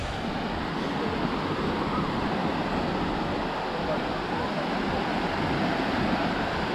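Steady Black Sea waves at Dzhemete, Anapa wash and hiss continuously, a broad even rush of surf with some wind, moderately quiet and without any talking.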